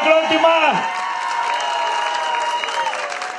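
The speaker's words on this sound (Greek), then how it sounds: "Ένα θερμό χειροκρότημα!" Crowd at an outdoor town carnival in Kouvaras, Saronikos, breaking into steady, loud applause and cheering that fills the whole clip, with a voice over a loudspeaker briefly heard at the start.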